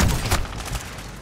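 Video game gunfire, a quick burst of loud shots crackling close up, with a couple of sharp reports in the first half fading into rumbling echo.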